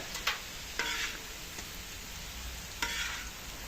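A steady sizzle of potatoes frying in a pan, with a few louder scraping stirs at the start and near the end.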